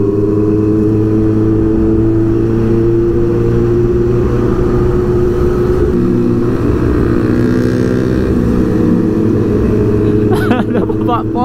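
A motorcycle with a loud aftermarket exhaust at a Sunday morning ride gathering in Lampung, a steady deep rumbling idle with slight rev swells, close and continuous, other engines droning around it and a brief voice near the end.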